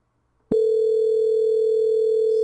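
A telephone dial tone starts abruptly after a brief click and holds as a steady, loud, unbroken hum, heard alone on a call line.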